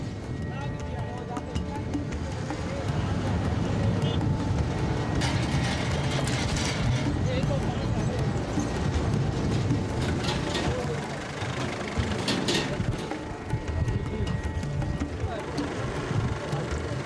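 Steady road traffic during a drive carrying a rescued Indus blind dolphin, with a continuous low engine rumble and idling vehicles, loud and close throughout, plus a few brief mechanical clanks and rattles.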